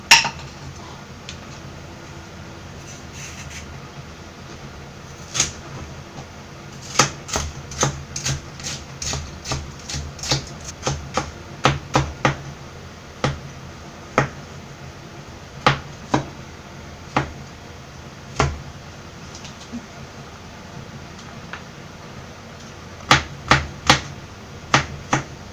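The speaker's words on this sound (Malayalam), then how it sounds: "ഇനി ഇത് തയ്യാറാക്കാനായിട്ട് ആദ്യം തന്നെ ഇതെല്ലാം ചെറുതായിട്ട് കട്ട് ചെയ്തെടുക്കാം." A knife chops cold cuts and pickles for a beef and chicken mortadella meat salad, giving sharp, separate taps on a cutting board that come in irregular clusters, some quick in succession, over a quiet room.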